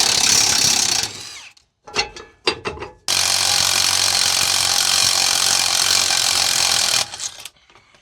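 A power tool works a worn center brake equalizer bolt out of a truck, its loud continuous whirring broken by a few short bursts and clanks before running steadily again and stopping.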